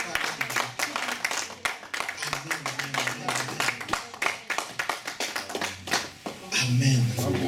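A church congregation applauds in sharp, rhythmic rounds of hand clapping, close and fairly loud, with voices talking and calling out alongside the claps.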